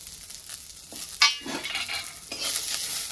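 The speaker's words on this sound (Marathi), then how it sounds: "ह्याच कढईमध्ये आपल्याला आता कांदा भाजून घ्यायचा आहे" Onions sizzle quietly in a kadhai while a utensil scrapes and stirs a few times, with one sharp clink.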